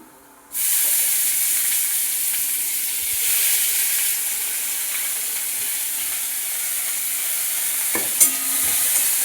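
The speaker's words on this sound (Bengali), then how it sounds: "বাঁধাকপিটা একটু ভাজা ভাজা করে নেবো" Shredded cabbage with garlic frying in a pan, a loud continuous hiss of hot oil starting abruptly and holding steady, with an occasional clink of the spoon, close up and without speech.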